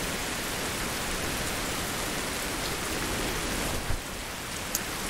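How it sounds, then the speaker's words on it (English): Loud, steady rain pours down in a forest, a dense unbroken hiss of drops with a couple of brief louder splashes near the end and no voices. "The rain is pretty damn loud."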